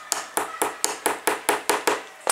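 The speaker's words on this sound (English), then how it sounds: "Or you could hammer in a nail just a short way like this." A hammer drives a nail a short way into wood with nine evenly spaced, sharp taps, close and crisp, each ringing briefly before the next blow.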